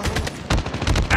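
Rapid automatic gunfire from a Call of Duty team deathmatch, loud, close bursts of shots with brief gaps between them.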